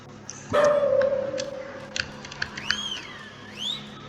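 Dog barking in the video game Lost in Vivo, a single sharp bark near the start followed by faint whines and chirpy game sounds, with no talk over it.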